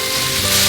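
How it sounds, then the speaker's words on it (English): Potatoes fry in oil on a Blackstone griddle, giving a close, steady hiss and crackle in a very short stretch with no talking. "We're gonna get those potatoes sizzling on their own"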